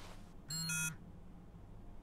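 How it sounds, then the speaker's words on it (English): Low battery warning beep in the video game Cry of Fear: a single short electronic buzzing tone, bright and harmonic, sounding once over a quiet background. "Warning, low battery."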